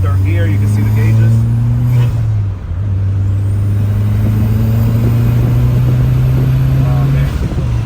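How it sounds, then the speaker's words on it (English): A VW Cabriolet with a swapped-in 1.8T engine pulls hard through the gears, a loud, steady engine drone rising in pitch with a brief dip at a shift, close up from inside the car. "The cabriolet taking it for a drive. Head up to third gear."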